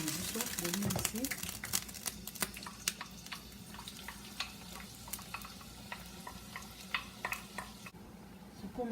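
Onions sizzling and crackling in hot oil in a pot, a steady light frying hiss with scattered sharp pops and occasional stirring, under a person talking throughout.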